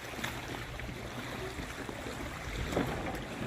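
Small waves lap softly against the shore and dock at Lake Champlain in Vermont, a faint, continuous wash with light wind and a few gentle splashes.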